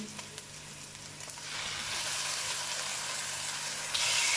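Chicken pieces hit a pan of golden garlic ginger paste, starting with quiet sizzling and then breaking into a louder, steady hiss of frying, with a sharp surge of sizzle near the end.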